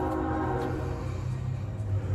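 Train passing close by on a warm day after rain, a loud dense rumble of rail cars with steady low roar throughout.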